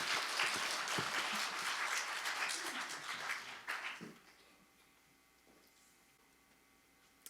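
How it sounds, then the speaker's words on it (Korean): A church congregation applauding in a broad, dense wash that holds steady for about four seconds, then drops away to near silence. "다시 한 번 더 박수 부탁합니다."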